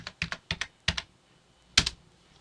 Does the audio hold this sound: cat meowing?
no